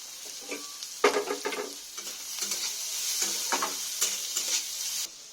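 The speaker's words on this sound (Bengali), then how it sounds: "এটা ক্যাপসিকাম গাজর আমার সব উপকরণগুলো ভাজা হয়ে গেছে" Capsicum, carrot and green chilies frying in a pan for Maggi, with a hissing sizzle broken by several brisk stirring scrapes, close and fairly loud, ending abruptly.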